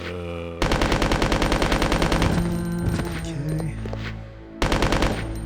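Submachine guns in Resident Evil Code Veronica fire rapid, dense bursts at zombies, loud and close, in two long volleys separated by a brief pause, with a short spoken word near the start.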